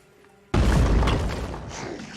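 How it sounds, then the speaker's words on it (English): A grenade explodes in the video game Phoenix Point, a sudden loud boom that hits after a quiet moment and rumbles on heavily, sustained and slowly fading without dying out. "That is a nice looking grenade. That is a very healthy looking explosion."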